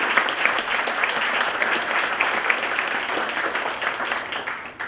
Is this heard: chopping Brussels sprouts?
no